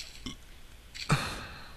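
Minecraft game burp effect: a short, sudden guttural belch standing out near the end, preceded by faint breathy sounds, fairly quiet overall.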